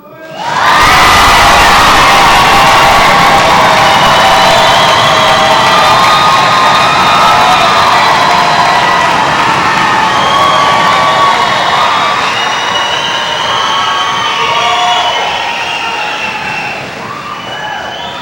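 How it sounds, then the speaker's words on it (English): Graduation audience at a 2015 Richland commencement bursts into loud cheering, shouting and whooping, a dense crowd roar sustained for several seconds before easing slightly toward the end. "We're going to cheer for them."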